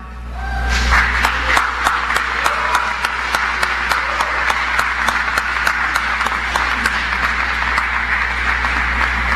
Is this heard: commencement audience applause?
yes